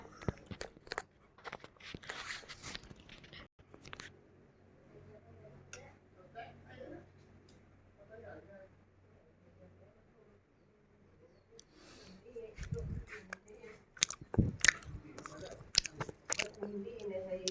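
Crispy milk toast crunched between the teeth, with several sharp bites and chewing bursts close to the mic in the later part, mixed with faint talk and quiet gaps earlier.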